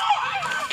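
Ducks at a pond give a brief nasal honking call, close and clear.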